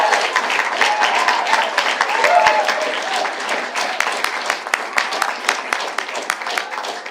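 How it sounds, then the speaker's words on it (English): An audience at a city council evening session claps in a lively round of applause honoring youth coaches, dense at first and thinning into individual claps toward the end, with faint murmuring beneath. "Big round of applause."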